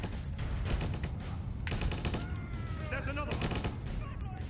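Rapid gunfire from soldiers in the video game Stubbs the Zombie, bursts of shots and volleys in quick clusters, fairly faint, mixed with game voices and noise.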